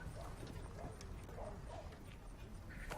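A horse's hooves clip-clop at a slow, even pace on hard ground, set low under a busy outdoor scene in 1830s Texas.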